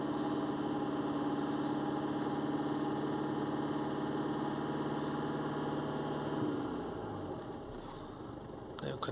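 A Mercedes-Benz C-Class engine idles with revs held up, headlights and AC on, giving a steady close mechanical hum and drone that slackens and drops near the end, with no talk over it.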